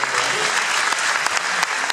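Steady applause from a concert audience in Cluj, welcoming a speaker onto the stage; dense, continuous clapping fills the whole stretch at an even, full level, with no break.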